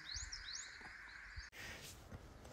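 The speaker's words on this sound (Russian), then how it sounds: "И птицы поют" Several birds sing outdoors in short chirping, warbling phrases over steady background noise, the song strongest in the first half before an abrupt cut to a brighter, noisier ambience.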